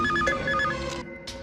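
A telephone rings with a trilling electronic bell in a short burst, fairly quiet and alone, with no voices over it.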